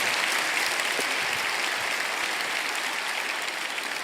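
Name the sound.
applause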